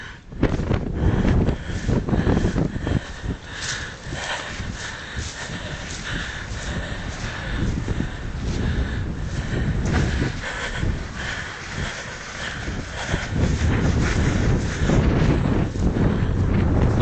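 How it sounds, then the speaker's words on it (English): Strong wind buffets the microphone throughout while a 4 meter kite is flown in high wind, a loud, continuous rumbling roar with gusty surges and no clear speech. "That's a bit too much wind, isn't it?"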